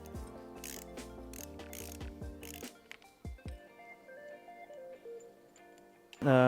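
A ratchet clicks in quick bursts while removing the brake lever and master cylinder from a Triumph Street Twin handlebar, then gives a few separate clicks over a faint tonal hum, ending in a sudden loud clunk.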